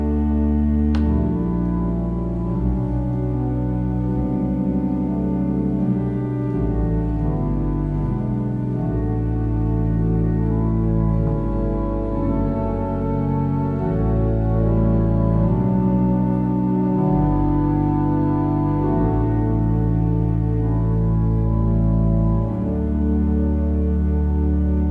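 Pipe organ swell voices, an 8-foot flute paired with a viola da gamba stop, hold sustained chords that shift smoothly from one to the next, warm and steady, filling the space at an even, moderate volume with no talking.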